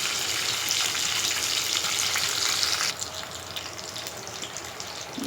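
Tempering of green chillies and spices frying in a pan before bottle gourd pieces go in: a steady, close, loud sizzle that drops to a quieter crackle halfway through.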